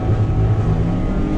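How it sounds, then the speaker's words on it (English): A 150bhp Lexus straight-six with a half exhaust holds the rev limiter while drifting on track, a loud, close, steady droning buzz with slight fluctuation. "Makes a nice noise though. This is on the limiter."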